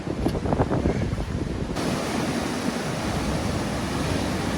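Strong wind and crashing surf on an ocean beach during harsh fishing conditions, a loud steady roar of waves and gusts blasting the microphone.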